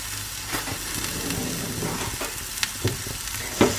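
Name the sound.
leek and pea omelette eggs frying in pan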